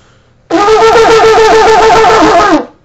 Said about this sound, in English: there are 9 staccato blasts called Truah